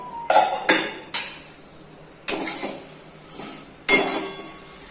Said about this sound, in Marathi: साधारणपणे एक मोठी वाटी शेवया घेतल्यात मी आणि त्या जरा लालसर होईपर्यंत भाजून घेऊया।